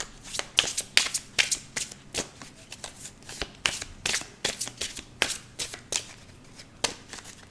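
Tarot cards being shuffled by hand, a quick irregular run of riffling bursts and soft slaps that sounds close and fairly loud throughout, with no talking over it.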